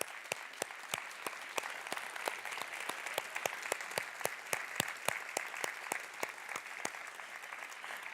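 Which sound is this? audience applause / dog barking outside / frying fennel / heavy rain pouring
audience applause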